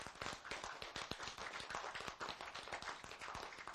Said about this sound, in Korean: 다시 한번 박수 쳐라고